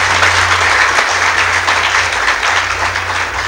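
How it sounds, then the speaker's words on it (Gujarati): Sustained applause from an audience honouring a team at a public felicitation gathering, a dense, steady wash of many hands clapping that stays loud throughout, with no speech over it. "આખી ટીમને જેટલી તાળીઓથી વધાવીએ તેટલા"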